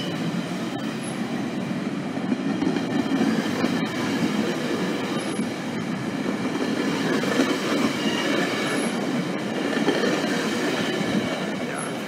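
A GO train rolls steadily past a station platform, with a continuous rumble and wheel noise running the full length, carrying faint high squeals from the rails now and then.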